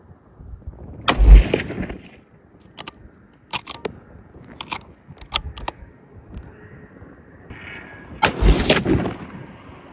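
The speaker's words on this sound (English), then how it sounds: "we're gonna shoot a little bit more and get it really dialed in" Rifle shots fired while sighting in a scope at a 100-yard target outdoors: a few sharp, loud cracks spaced several seconds apart, each with a short echoing tail, plus small metallic clicks between shots.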